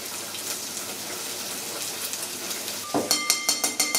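Fat renders in a hot pan for spaghetti carbonara, a steady soft crackle and hiss, joined near the end by a run of sharper rhythmic clicks and pops, with no voices.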